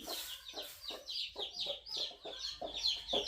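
A hen clucks in a steady run of short, rhythmic calls, close by and fairly soft, with no talking.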